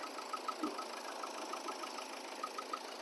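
A 2012 Nissan Sunny engine idling in good condition, a quiet, even hum with a faint steady ticking pulse, heard from a short distance with no one talking.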